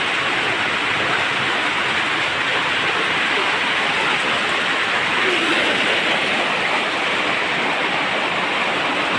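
Heavy rain pours down steadily and loudly, a dense, continuous hiss of water with no breaks, close and enveloping and heard alone without talk.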